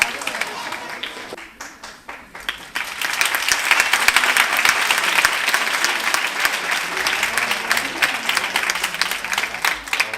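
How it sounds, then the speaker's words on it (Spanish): A school festival audience applauds sixth-grade students, starting with scattered claps that swell after a few seconds into loud, sustained clapping from a large crowd. "Un fuerte aplauso para ellos."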